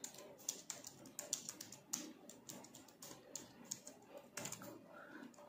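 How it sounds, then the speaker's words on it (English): Someone types on a Bluetooth keyboard connected to an Infinix Hot 10 Play phone, a quiet, irregular run of light key clicks and taps with short pauses between bursts. "There you go guys, the keyboard is"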